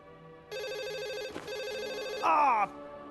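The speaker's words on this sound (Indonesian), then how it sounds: "ia dikagetkan dengan suara telepon" An electronic telephone ring warbles steadily for a few seconds, broken by a brief click, then a louder, higher ringing tone that cuts off.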